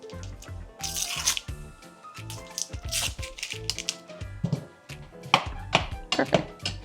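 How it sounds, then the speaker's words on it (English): Boiled potatoes are mashed in the same pot they cooked in, giving close, irregular thuds and squelchy crunches with quick clicks of the masher against the pot, repeated in uneven bursts. "Same pot that we boiled our potatoes, we're now going to mash them."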